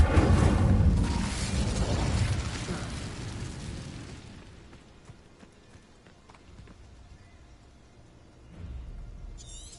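A fire spell cast in a Harry Potter video game with a Slytherin character, a loud whooshing burst of flame that roars for about four seconds and fades into quiet game ambience, with another swell near the end.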